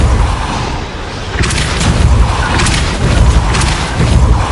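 A Confringo fire spell explodes in the Hogwarts Legacy video game, loud booming blasts rolling over dense battle noise with heavy low rumble and crackling bursts.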